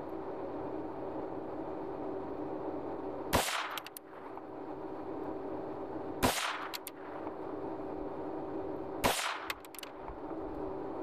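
Three loud gunshots fired at a bottle ring out at even intervals, each a sharp crack with a brief echoing tail over a steady background hum, with no talk.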